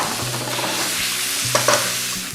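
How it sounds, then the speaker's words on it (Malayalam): Marinated boneless chicken pieces fry with onions in a pan, sizzling steadily while a utensil stirs them, with a couple of sharper scraping knocks near the end. "മാരിനേറ്റ് ചെയ്ത് വെച്ച ചിക്കൻ നമുക്ക് ഇതിലേക്ക് ഇട്ട് ചിക്കൻ നന്നായിട്ടൊന്ന് കുക്ക് ചെയ്തെടുക്കാം"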